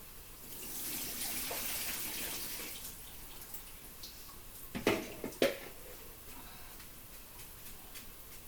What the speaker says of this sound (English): So I'm going to drain the potatoes.